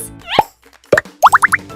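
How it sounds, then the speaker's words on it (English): Cartoonish pop sound effects from an explainer-video effects pack: two separate bubbly plops, then a quick run of four rising pops in even rhythm, crisp and close with no talk. "Pops."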